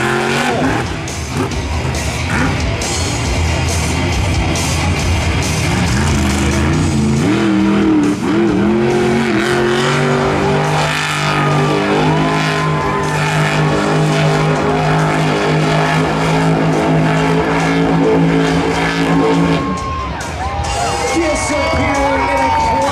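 Monster truck engine revving hard while spinning dusty donuts in a dirt arena at a Toughest Monster Truck Tour show in Lamar, Missouri, loud and sustained with rising and falling revs over a cheering crowd.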